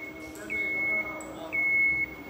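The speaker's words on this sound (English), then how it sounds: "Now this is beeping" A 2023 Peugeot 408 GT plug-in hybrid gives two short electronic warning beeps about a second apart, clear and steady over faint background noise.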